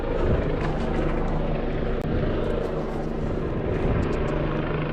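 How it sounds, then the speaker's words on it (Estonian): A helicopter flies over a mountain, its rotor throbbing loud and steady throughout, a continuous beating drone close overhead with no clear gaps. "Jälle kopter."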